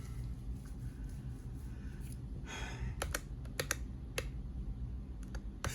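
Keys switched to Samduksa/Crown 202 switches are typed in short clusters of sharp, slightly rattly clicks, close and clear over a steady low hum, with no talk.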